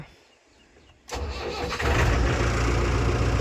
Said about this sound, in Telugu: ఇప్పుడు ఇంకా స్టార్ట్ చేస్తాం బండి అయితే